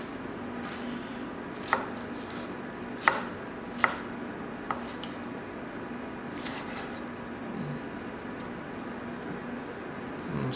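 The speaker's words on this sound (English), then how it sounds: "Now we're going to cut them into cubes" A knife cuts bell pepper into one-inch cubes on a board, giving a few sparse, soft chops and taps over a quiet, faintly hissing room.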